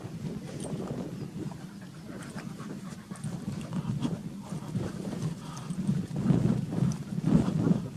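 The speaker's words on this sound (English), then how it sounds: "Dog's enjoying his bit running about." A dog panting heavily and steadily as it runs about outdoors on open ground near a tarn with sheep and cattle, close to the microphone, with wind buffeting in the background.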